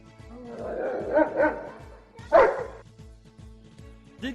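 A pet dog barks in a few short bursts, around the first and middle parts, close and fairly loud over a low steady background hum.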